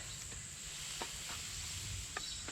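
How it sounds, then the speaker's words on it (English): Spanish mackerel cooking skin side down over hot coals, a faint, steady sizzle with soft crackles and a few sharp pops scattered through it, no voices. "I'm going to cook the fish for about 3/4 of the time on the skin side."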